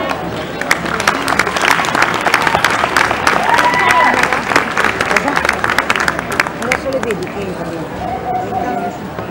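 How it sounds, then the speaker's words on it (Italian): Festival audience gives a big round of applause for a Sri Lankan performing arts group, dense crowd clapping that holds steady for several seconds with faint cheers mixed in. "allora siamo pronti per fare un grande applauso ai Pradeep Shastra Performing Art of Sri Lanka"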